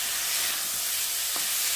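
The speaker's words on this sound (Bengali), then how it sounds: "ভাজা ভাজা হয়ে যাচ্ছে সবজির সাথে" Steady hissing sizzle of dalia (cracked wheat) frying with vegetables in a pan, continuous and close, with no talk.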